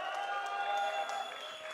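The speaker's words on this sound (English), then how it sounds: "They have been cheering for you the whole time." Crowd applauding and cheering at a League of Legends World Championship 2015 esports match, a dense wash of clapping and voices at moderate distance, continuous throughout.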